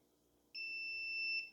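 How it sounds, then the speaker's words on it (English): A multimeter continuity beep, probes touching across a speaker's terminals, sounds with a bright, pure two-tone pitch, switching on abruptly, holding nearly a second, then cutting off over faint background hum. "when we touch our 2 probes, we'll get a beeping sound"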